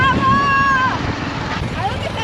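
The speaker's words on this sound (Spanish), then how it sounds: "lo filme a toda velocidad, yendo en la moto" A motorcycle ridden at full speed roars with rushing engine and wind noise, loud and close throughout, while a voice speaks over it near the start.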